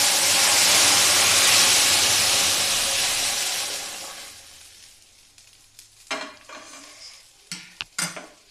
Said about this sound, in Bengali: মাছের ঝোল ঢেলে।